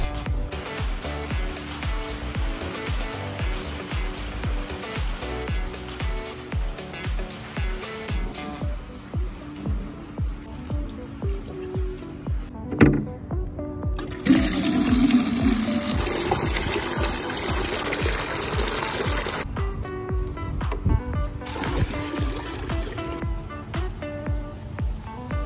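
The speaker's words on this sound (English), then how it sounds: "it started pouring down rain" Heavy rain pours down around a barn at night, a dense, steady rushing wash with a regular thumping rhythm underneath that grows louder and brighter midway through.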